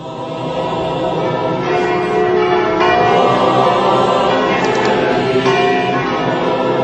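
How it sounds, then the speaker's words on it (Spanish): Church bells of Bethlehem peal together at midnight, a dense, continuous ringing wash of overlapping strikes, steady and fairly loud throughout. "A medianoche repican todas las campanas de Belén."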